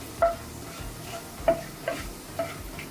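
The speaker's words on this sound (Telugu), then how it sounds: "ఇప్పుడు లవంగాలండి, అలానే ఇలాచి, అలానే జీలకర్ర అండి, చెక్క, బిర్యానీ ఆకు వేస్తున్నానండి. ఈ స్పైసెస్ అన్ని వేసుకుని ఒక 1 మినిట్ వరకు ఫ్రై అవ్వాలండి." Whole cloves, cardamom, cumin seeds, cinnamon stick and bay leaf fry in hot oil in a pan for prawn curry, with a soft steady sizzle broken by a few sharp spoon taps and scrapes at irregular intervals, no one talking.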